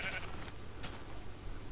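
A sheep in the Minecraft video game bleats a couple of times, faint and brief, each call a short wavering cry over a quiet, low background hum.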